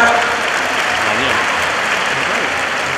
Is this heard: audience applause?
yes